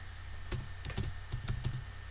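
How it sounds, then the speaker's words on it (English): Quick, uneven clicks of someone typing on a computer keyboard, close and fairly quiet, with no voices. "So I'm gonna type that in here, assignment 2 and pet shop."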